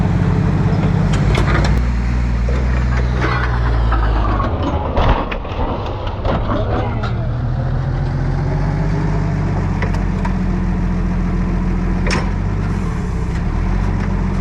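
Forklift engine working hard in high gear while pushing a car, a loud continuous rumbling drone with rising and falling revs and some clanks and knocks, running throughout.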